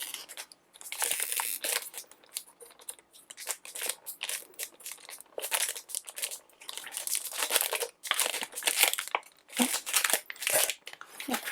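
Crinkling plastic packaging of a Daiso sticker pack, a tin-case set of 60 stickers, being torn open by hand, with dense, close crackling bursts and sharp tearing rustles in irregular clusters throughout.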